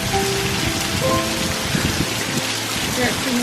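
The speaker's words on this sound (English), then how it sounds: "Rain is really bothersome." Steady rain falling on a surface on New Year's Day, a dense continuous hiss and patter filling the whole stretch with a few faint tonal sounds underneath, no talking.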